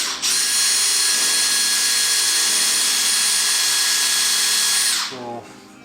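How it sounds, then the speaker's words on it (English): A power drill bores out a sheared bolt with a stripped head on an FXR motorcycle driveline: one loud, close, steady whine lasting about five seconds, then the drill winds down abruptly. "drilling that bolt out because the head stripped"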